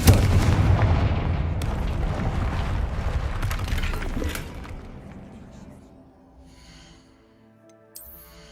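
A Confringo fire spell explodes in Hogwarts Legacy, a loud, rumbling boom that rolls on for several seconds and then fades to near quiet, ending with a small sharp pop.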